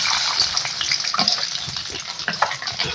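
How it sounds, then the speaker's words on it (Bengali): Raw peanuts fry in hot oil in a kadai over a spice tempering of dried chillies, bay leaf, cardamom, cinnamon and cumin, giving a steady close crackling sizzle with occasional stirring scrapes throughout. "এগুলো কাঁচা ছিল তাই একটু ভেজে নেবো"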